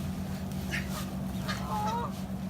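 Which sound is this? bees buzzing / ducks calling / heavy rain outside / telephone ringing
ducks calling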